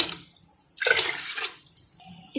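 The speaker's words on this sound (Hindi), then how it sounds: "5 गिलास पानी ऐड करेंगे।" Water is poured from a glass into a pot of chana dal being cooked with oil and cumin, a short splashy burst of pouring lasting under a second, then a quieter trickle in a calm kitchen.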